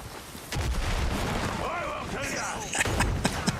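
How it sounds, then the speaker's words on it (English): Enemy gunfire in the Windrose video game, a few sharp shots popping near the end over a busy game soundscape, partly masked by a player talking. "They're still shooting at me."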